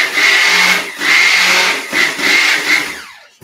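A stick blender whirs in soap batter for green tea and chai scented soap, four loud sustained bursts separated by short pauses, the last one winding down at the end.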